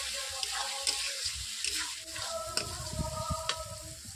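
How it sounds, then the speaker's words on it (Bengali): Spice paste for a jackfruit curry sizzles and bubbles in a pan after water is added, with soft stirring scrapes and small clinks, fairly quiet and close. "মশলাটাতে জল দেওয়ার পর আমি এইভাবে 3 থেকে 4 মিনিট কষিয়ে নিচ্ছি ভালোভাবে।"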